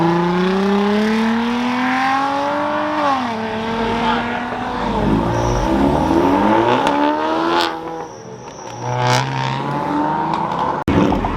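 A muscle car revs hard and accelerates away from a Fourth of July car meet, its loud engine note climbing and falling through gear changes, with crowd chatter and other car noise around it.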